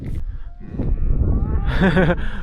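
Angus cattle on a Canadian farm moo once, loud and fairly close, a long drawn-out call near the end after a brief stretch of low rustling.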